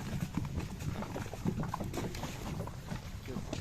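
Horse hooves clip-clop steadily on a road as a horse in Ukraine hauls a load of sawn boards, the clatter close and continuous under faint outdoor noise.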